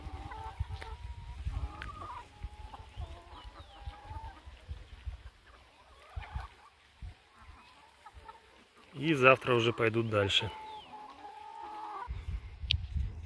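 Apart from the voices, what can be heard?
chickens clucking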